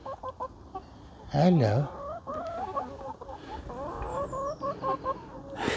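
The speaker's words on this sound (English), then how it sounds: "we've got some chickens indoors" Chickens kept indoors at an allotment cluck and warble close by in a steady run of short calls, with one louder squawk, while a person speaks to them softly.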